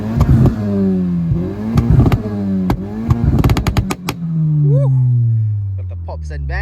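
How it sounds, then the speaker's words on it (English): A turbocharged JDM car with a six-speed manual revs at a car meet, engine rising and falling with crackling exhaust pops and bangs, loud and close, ending on a long fading tone as people talk nearby. "Got the pops and bangs."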